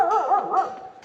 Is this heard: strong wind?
no